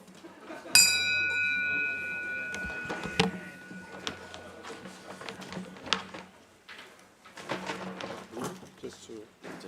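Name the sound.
a bell being rung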